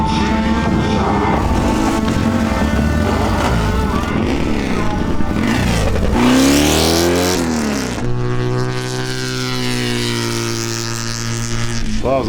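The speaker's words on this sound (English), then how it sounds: "I get to race a 1972 BMW R75/5, owned by ARMA Executive Director Dan May." A 1972 BMW R75/5 motorcycle races around a wet track in the rain, its engine roaring loud and close with rising and falling revs through gear changes, and a steady drone near the end.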